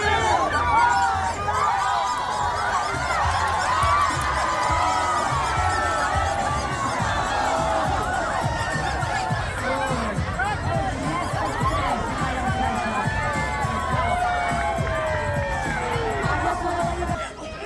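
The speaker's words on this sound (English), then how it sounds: "The wieners wriggled down the race route in several heats, cheered on by an enthusiastic crowd" An enthusiastic outdoor crowd at a wiener dog race in Cincinnati cheering and shouting, a dense lively babble of voices with excited whoops and children's cries, sustained and fairly close.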